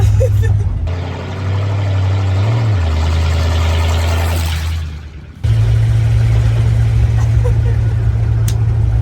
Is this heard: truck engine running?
yes